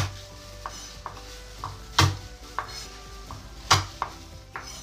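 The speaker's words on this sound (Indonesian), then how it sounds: "Nah, geprek bawang putih." Three garlic cloves are smashed on a board with several sharp, close knocks spaced unevenly, plus softer taps and kitchen clatter in between, and no talk.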